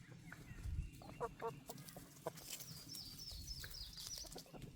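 Clucking and short calls from a rooster or chickens, scattered over a few seconds, moderately distant, with faint background noise and rustling.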